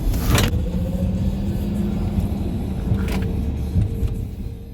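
A Mercedes EQE electric car accelerating during a roll-on from about 30 to 40, giving a low steady rumble of tyres and road noise, with a faint motor whine and a couple of brief clicks inside the cabin.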